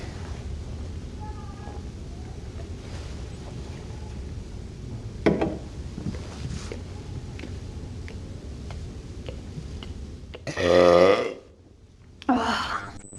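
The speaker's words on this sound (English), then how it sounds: "why is she burping for us" A woman lets out two loud, close burps near the end, the first long and croaky, the second shorter, after a stretch of quiet room hiss with faint ticking.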